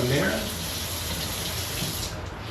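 Tap water running steadily into a sink during cleanup after cooking gumbo, a continuous close hiss with a brief voice at the start.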